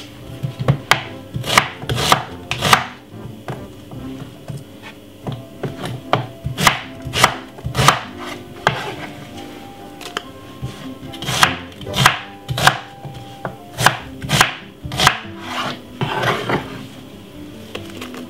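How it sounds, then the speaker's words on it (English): A knife finely chops a white onion on a board, with rapid, sharp rhythmic knocks coming in quick bursts separated by short pauses, close and clear. "One white onion, finely cut up."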